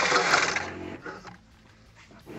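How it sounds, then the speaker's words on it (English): Metal-blade Sawzall reciprocating saw cutting through deck boards, a loud rasping burst at the start that fades into quieter handling noise as the battery dies. "I'm gonna go back to the metal Sawzall blade"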